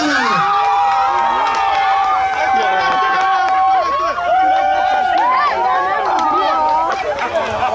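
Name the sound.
wedding guests applauding and cheering the ladies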